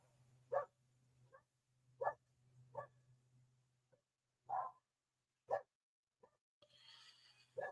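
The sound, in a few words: dogs barking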